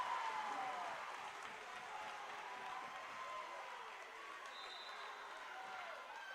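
A packed gym crowd at a state high school volleyball match roars and applauds in a steady, dense wash of cheering, loud and continuous throughout, with a brief whistle-like tone partway through.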